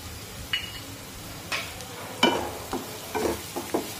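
Slit green chillies frying with onions in a pan, a low steady sizzle under intermittent scraping stirs of a spatula, close by, with no talk.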